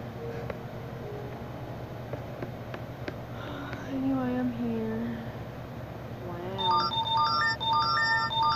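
Short electronic notification chimes from a PS3 console during Minecraft PS3 Edition play; repeated stepped beeps arrive near the end, fairly loud over the game's background sounds and a voice.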